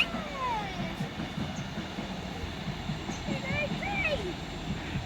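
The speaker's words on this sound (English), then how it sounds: "Toot toot. Train, train." A steady low rumble of a passing train in the distance, with people talking over it.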